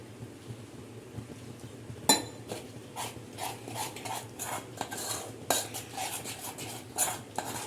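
A spoon stirs a thin besan batter with bread slices in a metal bowl, giving irregular clinks and scraping strokes against the dish, fairly close and quiet, over a low background hum.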